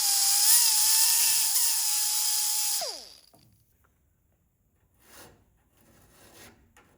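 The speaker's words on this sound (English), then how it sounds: "I'm going to use my pneumatic angle grinder for this" A pneumatic angle grinder trims a part on a RANS S-21 kit aircraft. Its piercing high whine runs for about three seconds, then winds down quickly, leaving near silence with a few faint handling scrapes.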